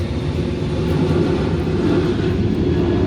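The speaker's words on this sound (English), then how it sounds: "Okay, airplane." Continuous low engine roar of an airplane passing, steady and fairly loud with no talking.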